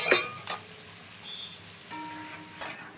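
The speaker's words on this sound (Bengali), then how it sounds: "এবার পোস্তটা দিয়ে এবার পুরো কষাবো ভালো করে।" Poppy seed paste with a little sesame and cashew fries in a pan, giving a gentle sizzle and crackle with a few sharp nearby spatula scrapes and taps.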